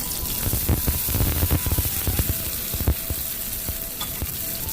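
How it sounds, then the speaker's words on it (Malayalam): Hot oil tempering of mustard seeds, dried chillies and curry leaves poured into pineapple pachadi for a Kerala sadhya, giving a steady close crackling sizzle with sharp spitting pops throughout and no talk. "പൈനാപ്പിൾ പച്ചടിയിലേക്ക് നമ്മൾ താളിച്ച് വെച്ച കടുകും മിളകും വേപ്പിലയും കൂടിയിട്ട് ഒഴിച്ചു കൊടുക്കാം കേട്ടോ"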